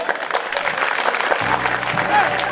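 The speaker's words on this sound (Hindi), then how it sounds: "अच्छा लगा जितना उतनी तालियां आपके लिए" Audience applause at a live Jeen Mata devotional mangal path event in Abu Road, Rajasthan, steady clapping throughout with voices and music mixed in underneath.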